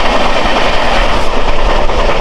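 Passenger train running at about 127 to 129 km/h, heard as a loud, continuous rushing rumble with wheel and rail clatter throughout and no voices.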